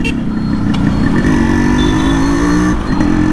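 A Yamaha RX100 two-stroke motorcycle with a chamber exhaust rumbles loudly and steadily close by, the engine revving with a deep, raspy drone throughout.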